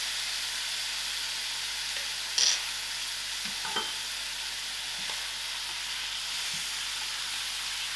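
Cauliflower and potato frying with spices in a pan give a steady, even sizzle throughout, close and fairly loud, with a brief clatter of stirring or a lid partway through and no voices.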